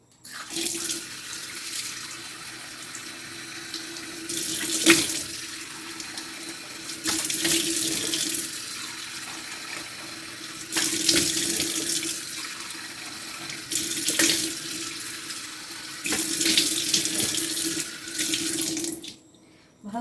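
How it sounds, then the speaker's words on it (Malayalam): A household water tap runs in repeated gushes as someone washes their face at a sink, each burst of splashing flow lasting a second or two, with brief quieter pauses between and no talking. "മുഖം ഒന്ന് കഴുകാൻ പോവും"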